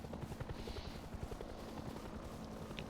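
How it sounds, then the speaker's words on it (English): Helicopter in the video game Rust, a continuous low rotor thump and engine drone holding steady at moderate distance, with no talk. "Oh, helicopter."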